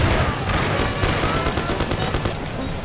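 Gunfire in the Mafia video game, dense rapid shots blending into a continuous loud barrage of crackling reports, with a voice faintly mixed underneath.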